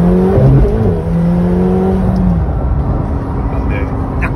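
A McLaren 720S pulls hard in second gear on a slip road, its engine note climbing steadily in pitch as it accelerates, loud and close inside the cabin.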